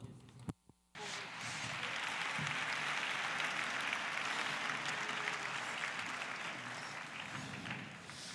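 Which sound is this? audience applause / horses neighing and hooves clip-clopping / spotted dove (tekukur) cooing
audience applause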